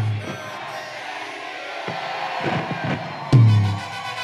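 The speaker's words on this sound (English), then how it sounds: "on the count of three, can we fucking scream happy birthday, Ian?" Concert crowd at Ventura Music Hall screaming and cheering together after a countdown, a dense roar of many voices with a sharp loud burst near the end.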